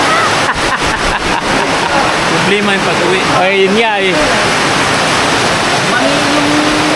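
Heavy rain pours in a loud, constant rushing wash while two people talk over it.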